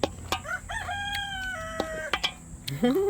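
A rooster crows nearby in one long drawn-out call with a rising start and sustained tone, amid clicks and clucking from other fowl, and a short call starting again at the end.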